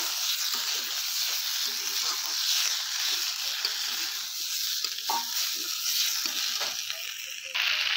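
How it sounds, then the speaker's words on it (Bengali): Fried kuche fish is stir-fried in a spice masala in a pan, giving a continuous dense sizzle with faint scraping from stirring throughout, heard close up. "দিয়ে এবার আমি সব কিছু একসাথে ভালো করে এটা কষিয়ে নেব"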